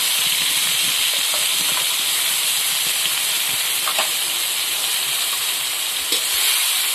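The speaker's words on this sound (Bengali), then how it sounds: "ভাজা হয়ে গেছে, এখন পেঁয়াজ বাটাটা দিয়ে নেই।" Onion paste hitting hot oil in a frying pan, after chopped onion, green chilli and black cumin have fried, produces a continuous loud hiss and sizzle with faint stirring clicks.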